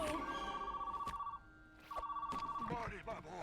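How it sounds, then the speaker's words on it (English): A landline telephone bell rings close by in two long trilling bursts with a short gap between them, then a voice starts talking right after the rings. "Phone's ringing."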